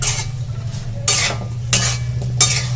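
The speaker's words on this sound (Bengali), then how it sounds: "নুনটা ভালো করে মিশিয়ে নিয়ে" A spoon stirs salt into a potato curry in a pan, making scraping and sizzling swishes in three or four loud, close strokes over a low steady hum.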